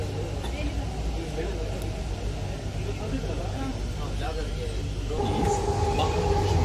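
Steady low rumble inside a Bangalore metro train in motion between Yeshwanthpur and Sandal Soap Factory, with a continuous hum and a tone rising near the end.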